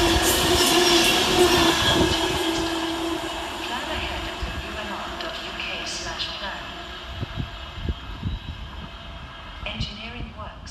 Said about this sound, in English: passing next through the station is 390-103, working 1 Alpha 47 for Avanti West Coast from Manchester Piccadilly to London